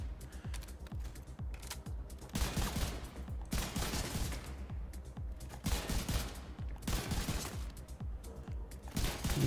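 Rifle gunfire in the shooter game The Division 2, rapid sharp shots in dense bursts with mechanical clatter, loud and continuous, no talking.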